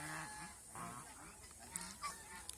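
Domestic geese on a goose farm in Mohanganj, Netrokona, resting on dry grass, give several faint, scattered honks at a distance against a quiet background.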